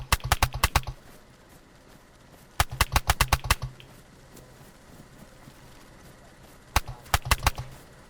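Gunfire in the survival video game DayZ: three sharp bursts of rapid automatic shots, loud and close, separated by quiet stretches of faint background noise.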